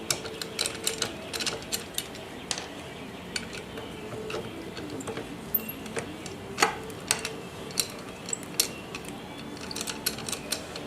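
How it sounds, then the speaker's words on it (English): A ratchet spins three bolts off an engine's front pulley, giving a long run of rapid, light ticking clicks with occasional louder clacks, close by and steady. "spin these 3 bolts off"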